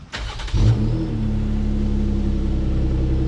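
A brief sputter, then a Jeep Gladiator engine with a full aftermarket exhaust catches and settles into a deep, throaty exhaust rumble, steady and close.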